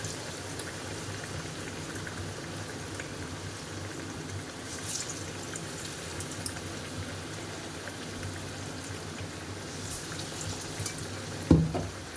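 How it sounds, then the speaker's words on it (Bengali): Pumpkin coated with gram flour fries in oil, a steady, moderate sizzle and bubbling throughout with an occasional soft knock, no talking. "কুমড়ো দিয়ে একটু বেসন দিয়ে ভাজা করবো"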